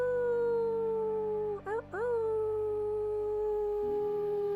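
A sustained, wavering howl in imitation of a wolf beneath a full moon, held steadily with a brief break and pitch dip midway, over a low background hum; people voice the sound rather than animals.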